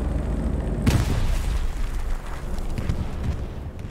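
A grenade bursts in the World War II shooter Hell Let Loose, one loud low boom near the one-second mark with a rumbling tail, then dense battlefield noise carries on for the rest.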